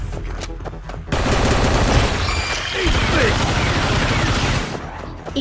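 Rapid automatic gunfire from a secondary firearm in the mobile shooter game Gigantic X, a loud sustained burst of several seconds that cuts in abruptly and drops off near the end, with a voice heard around it.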